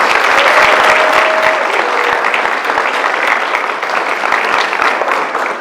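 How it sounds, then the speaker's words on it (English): Audience applauding graduating students at a ceremony, a loud sustained round of clapping from a large crowd that continues evenly throughout. "Give your children a big round of applause for their accomplishments."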